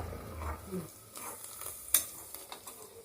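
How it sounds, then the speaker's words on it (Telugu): Onions frying in a pan give a faint, soft sizzle, with a spoon scraping and tapping now and then as they are stirred, one sharper clink standing out, quiet and close with no talking. "ఉల్లిపాయలు ఎర్రగా కాలే వరకు వేయించుకోవాలి"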